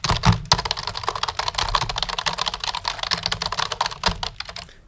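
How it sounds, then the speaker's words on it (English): Rapid typing on a computer keyboard, dense clattering keystrokes with a steady irregular rhythm, close and fairly loud throughout, no voices. "so that when I'm typing,"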